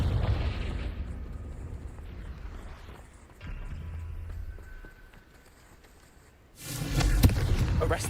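Repeated Confringo fire-spell blasts in Hogwarts Legacy, rumbling booms alternating with quieter game ambience, with a loud burst near the end.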